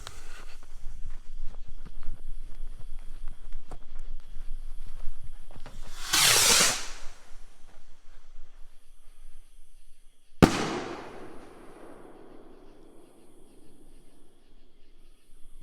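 A huge firework rocket is lit: a fizzing hiss builds after quiet background, then a sharp, loud bang bursts with a long crackling, decaying tail, heard from nearby outdoors.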